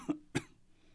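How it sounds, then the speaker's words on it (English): Two short, sharp coughs about a quarter second apart, close and fairly loud, followed by quiet. "followed by some coughing"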